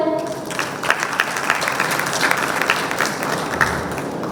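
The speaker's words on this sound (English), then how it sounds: "A round of applause for him." An audience at a financial panel session bursts into loud, sustained applause, a dense crowd of clapping hands close by that carries on evenly throughout.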